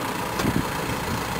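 A farm tractor engine running steadily at low speed while pulling a Princeton tree planter loaded with Green Giant arborvitae, a continuous mid-range rumble heard close and alone.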